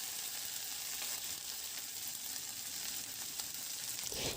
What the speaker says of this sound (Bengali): লো ফ্লেমে পেঁয়াজটাকে প্রায় 30 থেকে 40 সেকেন্ড মতো একটু হালকা ফ্রাই করে নেব।